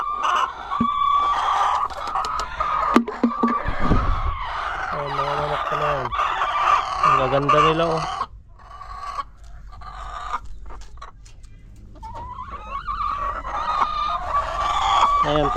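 Chickens and a rooster at feeding time on a farm fill the air with repeated clucking and several crows, close and loud, with a voice briefly mixed in among the birds.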